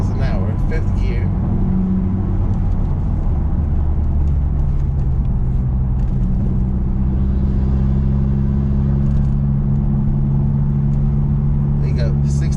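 Steady low exhaust drone from a Honda Civic FK2 with a Tegiwa B-pipe, heard from inside the car at 60 mph in fifth gear, a constant humming rumble with road noise and someone speaking over it.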